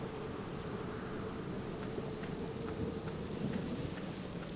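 Steady rain with low rumbling thunder from the gloomy, noble-family crypt setting of the video game The Black Mirror, falling continuously and evenly at a moderate level with no voices.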